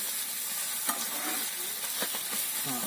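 Pieces of kap, a creek fish, already fried and now being tossed in a pan, giving a continuous sizzle broken by a few sharp scrapes of the spatula, close and without speech.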